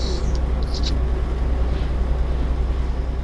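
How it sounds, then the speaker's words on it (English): A truck passing by in Euro Truck Simulator 2, heard as a steady low engine drone and road rumble that holds constant throughout, with a few faint higher blips near the start. "Here comes a peanut truck or something."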